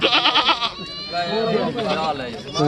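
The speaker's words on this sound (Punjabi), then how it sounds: "ਆ ਬੱਕਰੀ ਆ ਮਗਰ ਦੋ ਪੱਠਾ ਬੱਕਰੀ ਦੇ" A goat bleats in short wavering calls near the start, with people talking loudly over and after it at a village goat market.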